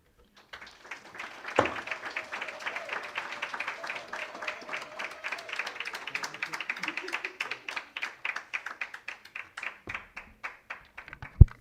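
Audience applause at a small and medium enterprises symposium, starting as a single sharp clap then swelling into steady, fairly close clapping from a modest crowd that continues for about ten seconds, thinning slightly toward the end.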